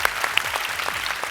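A studio audience at a television comedy show claps together, a burst of quick, dense hand claps that stays fairly close and lively for the whole moment.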